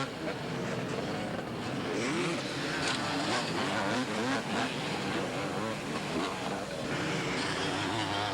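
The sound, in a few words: motocross motorcycles racing, 1987 Mount Morris National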